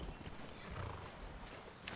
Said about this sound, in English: Oh, wow. Look at that horse.